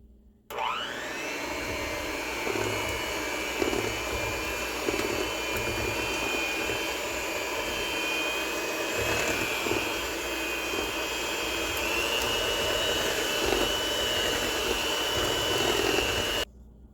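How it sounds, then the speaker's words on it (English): An electric hand mixer whirs steadily through a mixture, beating it smooth for a New Year's Day meal. The motor hum stays close and loud for about sixteen seconds, then stops abruptly. "Take your hand mixer and"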